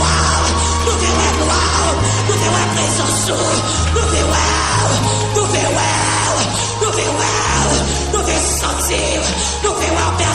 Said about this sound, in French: pousser des cris derrière, pousser des cris